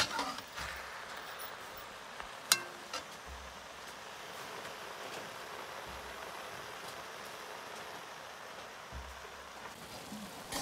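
Wild greens with seeds and salt cook in a pan outdoors, giving a steady hiss and crackle with a single sharp clink partway through.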